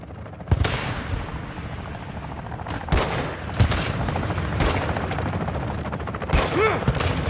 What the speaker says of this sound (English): Be ready for a gunfight.